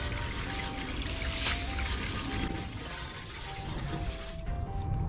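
Water from a hose sprays steadily onto the wheels of a BMW 3 Series, a continuous close hiss and splash of rinsing with a faint tonal hum underneath, ending abruptly.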